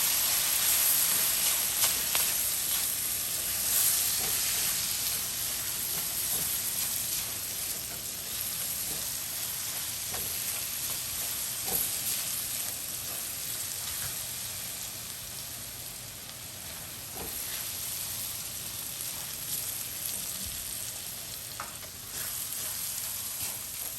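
Soy sauce and sugar sizzling steadily in a hot frying pan while being stirred, a continuous close frying hiss with faint scraping of the utensil throughout.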